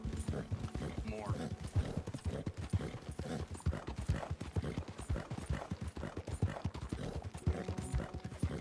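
Horse hooves clip-clop in Red Dead Redemption 2, a steady rapid trotting rhythm running loud and close throughout, with faint mechanical rattles and a voice talking over it.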